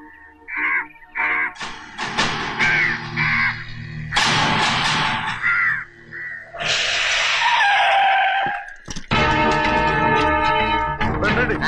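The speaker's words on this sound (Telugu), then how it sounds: "ఈ ఏరియాలో ఒక్క కాకి కూడా ఉండాలని వీలేదు." A loud flock of crows caws in sharp, repeated harsh calls, close and overlapping. There are cries and scuffling sounds between the calls.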